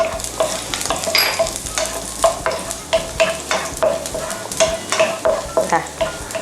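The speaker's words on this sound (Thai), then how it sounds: "พอน้ำมันร้อนแล้วเนี่ยเราก็เอากระเทียมนะคะ ลงไปผัดน้ำมันะค่ะ" Garlic stir-fries in hot oil in a wok for a tofu dish in oyster sauce, with steady close sizzling and a regular rhythm of scraping spatula strokes throughout.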